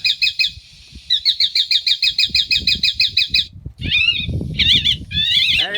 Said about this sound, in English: that is a bird distress system, and it keeps the birds out.